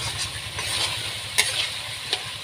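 Potatoes fry in a pan for a vegetarian chickpea dal, a soft steady sizzle with a rhythmic low bubbling and a couple of sharp stirring clinks.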